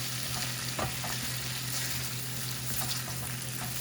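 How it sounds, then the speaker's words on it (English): Rum cooks off in a hot pan for vegetarian jerk vegetable pasta, a constant close sizzle with a brief utensil clink near the start and no talking. "So, cook out the rum."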